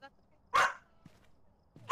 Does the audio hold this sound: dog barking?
yes